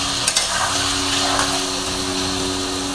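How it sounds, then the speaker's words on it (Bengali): Ash gourd and potato pieces fry in a pan with a steady, continuous hiss and sizzle. A couple of faint clicks of a utensil sound near the start, and no one speaks. "আরেকটু ভেজে নিব"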